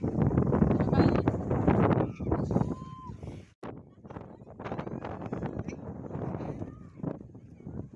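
Wind at a hill station in Gujarat, a strong, steady rush buffeting the microphone almost throughout, with people talking over it.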